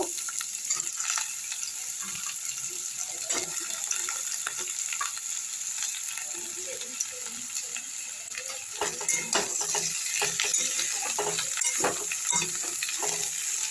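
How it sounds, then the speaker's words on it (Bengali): Potato pieces sizzle in a hot pan while a utensil stirs and scrapes them in irregular strokes, with the frying hiss continuous and the stirring clatter growing busier toward the end. "আলু দিয়ে দিলাম আলুটাকে একটু নেড়ে নেবো এভাবে"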